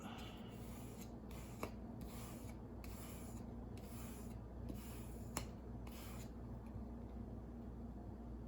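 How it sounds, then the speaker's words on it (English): Plastic scraper rubbing paper flat onto a card during card-making, a soft, continuous scratchy friction with brief strokes and a couple of tiny clicks, close and quiet. "Get the scraper and smooth it out."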